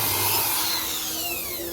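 A manual drill bores pilot holes into very hard plywood for a custom 12-inch speaker box, giving a continuous, close grinding whine that drifts slightly in pitch.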